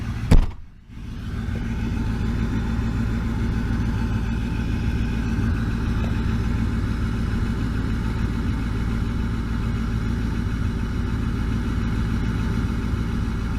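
A 1995 Ford-style 7.3 diesel truck engine settles into a steady idle just after starting, with a deep continuous rumble and a short burst at the start, close and loud with no talk.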